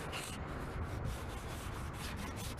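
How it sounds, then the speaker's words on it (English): A car indicator lens is wet sanded by hand, giving a steady, soft, close-up scrubbing hiss that continues without a break. Faint and short. "I'm going to do a little bit more sanding, just for the hell of it."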